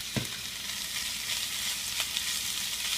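Thawed frozen spinach and canned diced tomatoes, juice squeezed out, hitting a hot pan, a steady loud sizzle with a brief stirring clatter at the start, no voices.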